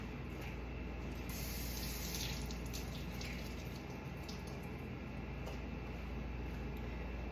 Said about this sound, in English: Also going to rinse off a little spinach, not a whole lot, just a few little pieces.